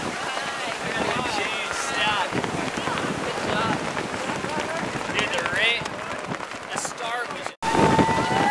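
Heavy, cold wind at a Malibu beach buffets the microphone in a constant rough rumble while people talk over it.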